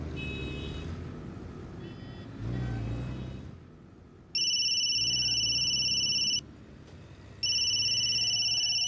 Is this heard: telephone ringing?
yes